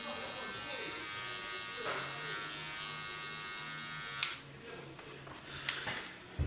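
Electric hair clippers buzz steadily while edging a receding hairline during a fade haircut, a close continuous hum for about four seconds before cutting off, followed by brief clicks and handling noises.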